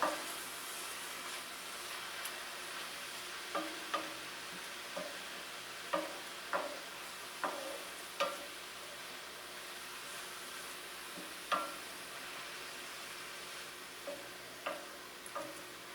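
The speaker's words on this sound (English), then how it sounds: "I'll stir that around and see what it looks like" A spoon scrapes and stirs spinach artichoke dip in a hot pan, giving steady irregular clicks and taps over a constant low sizzle.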